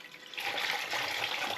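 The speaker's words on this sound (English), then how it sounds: "So bowl of water, just wet this sponge." A sponge dipped and wetted in a bowl of water during interior cleaning of a BMW 330Ci, giving a close, soft watery swish and slosh that swells after a brief quiet start.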